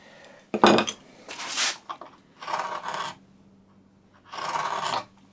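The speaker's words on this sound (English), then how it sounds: "bring your chisel in on that angle. Chisel in against that shoulder." A woodworking chisel pares and scrapes along the angled shoulder of a tapered sliding dovetail joint: several separate bursts of rasping, scraping strokes, close and fairly loud, with quiet gaps between them.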